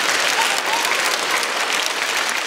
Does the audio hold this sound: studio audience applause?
yes